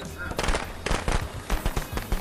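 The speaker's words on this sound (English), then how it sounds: "Somebody just threw some fireworks" Fireworks go off in the video game Friday the 13th, a rapid crackling string of close, loud bursts in irregular clusters, with someone talking over them.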